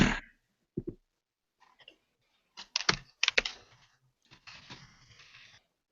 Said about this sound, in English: I'm just typing up the minutes in the Google Doc.